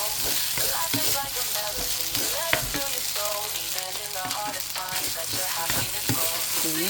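Ingredients for special fried rice frying in a pan, with a steady loud sizzle and scraping stir strokes throughout, no voices.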